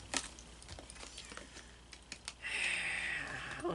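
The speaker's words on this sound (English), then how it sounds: "Okay, so I'm shuffling the card." A deck of tarot cards is handled with a run of quick, light clicks, then a louder, brisk ripple as the cards are shuffled close by.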